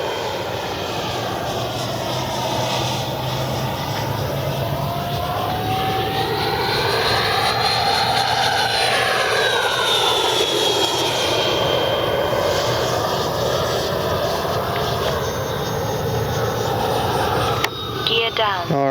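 A Freewing Avanti S 80mm RC jet plane passes at full speed, its ducted-fan whine rising to a loud, swelling pass and then easing away, with a person talking over much of it.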